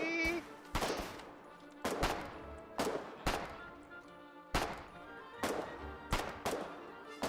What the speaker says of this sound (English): Look at it shooting at them.